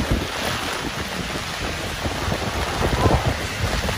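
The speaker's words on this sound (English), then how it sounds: "It's raining so much, I think it's gonna get flooded." Dense, steady roar of heavy monsoon-season rain pouring down in Seoul, broadband and loud throughout, with no voices.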